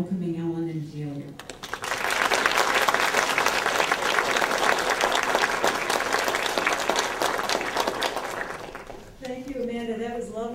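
An audience at a children's literature conference breaks into warm, sustained applause for two guest speakers. The clapping swells loud and dense for several seconds, with a voice heard briefly before it starts and again after it fades.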